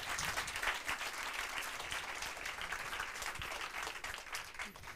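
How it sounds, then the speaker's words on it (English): Steady applause from a conference audience after a cybersecurity talk, a dense, even wash of clapping heard at a distance and at low volume throughout. "Hand of applause."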